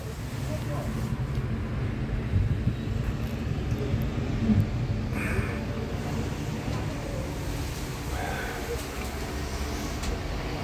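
A steady low rumble and mechanical drone fill a cable car tram ride up a hill in Alanya, with muffled voices and faint creaks over the continuous hum.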